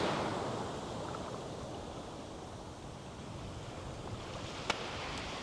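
Surf washing onto a beach in Hội An, Vietnam, a steady broadband wash of breaking waves with wind rumble, continuous and fairly close, with a brief sharp tick near the end.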